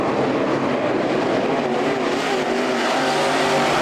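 Race cars at Ocala thunder down the back straightaway into turn three at night, a dense, loud, continuous roar of several engines blending together with no talk over it.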